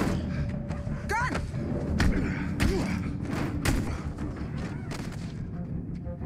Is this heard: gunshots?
yes